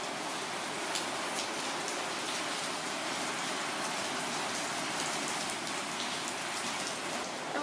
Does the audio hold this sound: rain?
yes